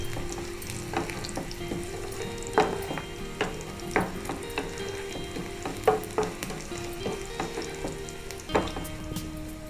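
Garlic fries in a pan for a homemade coriander leaf pickle, a steady close sizzle broken by sharp clacks of a spoon stirring against the pan at irregular intervals, with no talking.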